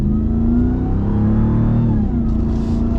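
Ram TRX pickup truck accelerating at partial throttle, a loud steady engine roar with rising harmonics that holds for about three seconds, heard up close with no talking.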